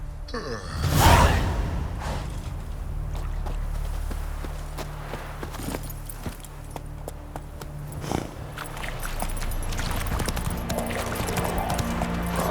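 Horse hooves clip-clopping at a gallop in The Witcher 3 Wild Hunt on PS5, a steady rhythmic beat with whooshes, game music and ambience underneath.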